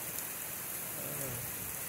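Steady rain falls on a Hill Country lawn, making a dense, even hiss with soft pattering that holds throughout without a break.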